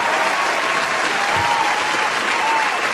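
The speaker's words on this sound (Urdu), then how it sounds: "تالیوں سے استقبال کیجیے" A mushaira audience in Bangalore breaks into loud, dense applause to welcome the poet Rahat Indori, a continuous roar of clapping with crowd noise mixed in.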